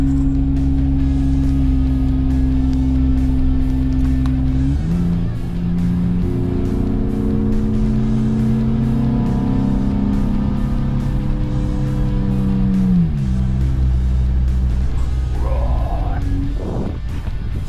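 A Nissan Xterra 4x4 climbing a steep mountain road in low gear, engine and exhaust droning loudly and steadily, pitch shifting up and down as gears change, close and continuous with no talking.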